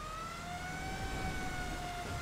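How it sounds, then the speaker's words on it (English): A fire truck siren in the video game GTA 5 wails with a steady, slowly shifting tone over low rumbling noise, fairly quiet and without voices. "The siren sounds good, yeah."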